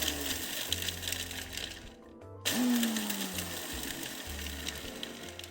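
A blender motor whirs loudly while grinding large peanuts finer, running in two bursts split by a brief stop, the second starting with a sharp rising whine that settles into a steady, gritty drone.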